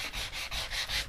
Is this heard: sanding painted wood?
yes